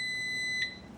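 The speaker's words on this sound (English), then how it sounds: "so that's the ready beeping noise." An Insignia air fryer sounds its ready beep: a short, faint, high-pitched electronic tone held steadily, then a brief click near the end.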